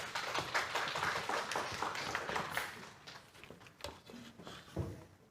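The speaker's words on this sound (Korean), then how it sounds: "큰 박수로 맞이해 주십시오." Scattered clapping from an audience at a senior citizens' general assembly of a welfare center, soft and somewhat uneven, with a few sharper taps and patters trailing off toward the end.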